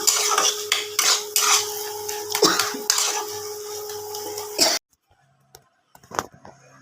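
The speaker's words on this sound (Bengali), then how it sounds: "এবার বন্ধুরা এটা একটু কষাবো।" Banana flower curry being stirred in a pot with a metal spatula, close repeated scraping and clanking strokes against the pot for several seconds, then a quiet pause broken by a few light taps.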